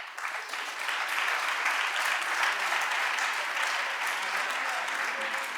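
An audience applauds at a talk on rent and the housing crisis, a steady wash of clapping from a seated crowd that rises quickly and holds evenly, fairly close, with no speech over it.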